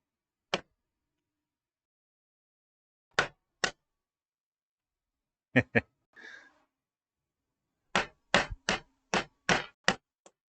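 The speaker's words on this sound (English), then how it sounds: "Use my knife hammer." Sharp metal taps from a knife hammer striking a stuck support inside a keyboard grip part: isolated single blows, then a pair, then a quick run of about eight raps near the end, close and crisp with a brief rustle between.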